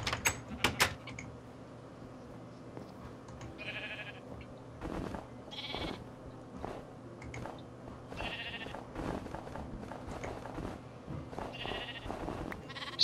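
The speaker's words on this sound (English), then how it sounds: "There, now there's a baby sheep." Baby sheep bleat in Minecraft, several short cries spaced through a quiet game scene with faint clicks and movement sounds between them.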